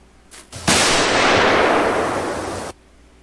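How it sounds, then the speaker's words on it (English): A single loud gunshot in the Siren Head horror video game, a sudden close blast followed by a long, roaring noisy tail that cuts off abruptly after about two seconds. "That was a gun?"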